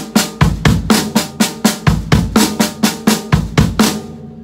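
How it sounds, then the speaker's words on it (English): Paradiddle-diddle sticking played on snare drum and bass drum, four snare strokes followed by two bass drum thumps, repeating in an even, crisp pattern for about four seconds, close and loud with no voices. "We're going to play the first four notes on the snare and the last two on the bass drum."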